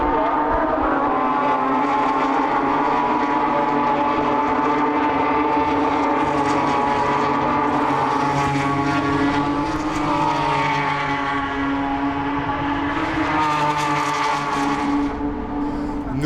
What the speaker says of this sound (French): Quand la course reprend au 5e tour, Voss, Cupins et Michael, Rossi tentent le tout pour le tout